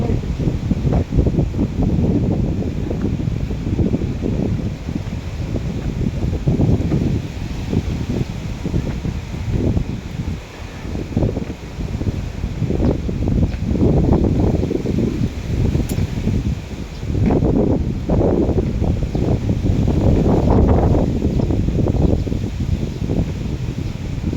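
Strong wind gusting across the island of Koh Loi, a steady loud roar with surging buffets against the microphone that rise and fall throughout.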